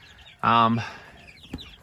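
Chickens on a grassy patch outdoors give a short burst of clucking, one close bird call with a fainter cluck after, while a voice murmurs quietly in the background.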